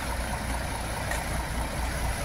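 A truck engine idles with a steady low rumble and constant mechanical drone, close by, with no talking.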